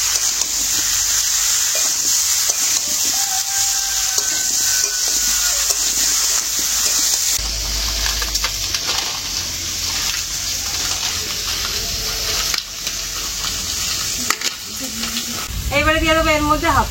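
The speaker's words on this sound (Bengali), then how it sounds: "এবারে সব কিছু খুব ভালো করে মিশিয়ে নেবো" Turmeric, chili, coriander and cumin powders are stirred into a Bengali pumpkin curry in a frying pan, giving a steady sizzle with scraping stirs, and a voice comes in near the end.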